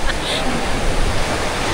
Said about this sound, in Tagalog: Malaki ng dagat.